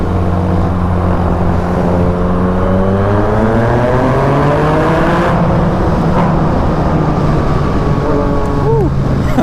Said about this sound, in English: This FZ09 is a pretty fun bike, huh?